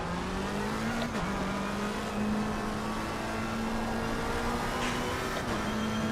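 A GT race car in Assetto Corsa Competizione at Watkins Glen drones steadily at a constant, slightly rising pitch, its engine loud and continuous with brief shifts but no pauses.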